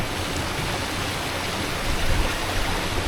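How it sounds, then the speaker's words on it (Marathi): Water pouring at Channat waterfall, a seven-pool falls, makes a steady broadband rush that stays loud and close throughout, swelling slightly near the end, with no voices. "वॉटरफॉलचं जे पाणी येतं"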